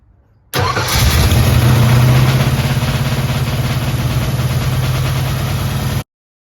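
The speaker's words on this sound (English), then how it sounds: "we're going to go ahead and get this thing fired up and give it an initial tune" 1955 Ford 292 Y-block V8 with a Summit 500 cfm electric-choke carburetor starting up, a brief crank then catching into a loud, steady close idle with fast-idle rumble that holds until cutting off abruptly.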